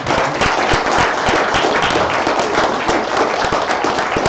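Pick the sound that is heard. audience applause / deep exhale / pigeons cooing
audience applause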